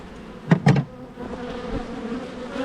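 Bees buzz close by, with a couple of loud passes near the start and then a steady low hum of many bees in the background.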